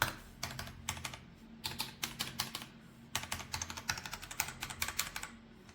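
Keys on an ASUS ROG Azoth White RGB 75% gaming keyboard with QWERTZ layout are typed close up in quick irregular bursts of crisp clacks, with brief pauses between runs and no talking.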